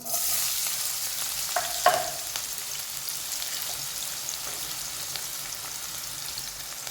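Chopped onions and shahi jeera sizzle in hot oil in a pan, a steady bright hiss heard close, with a brief scrape or clink of stirring near the start and no voices.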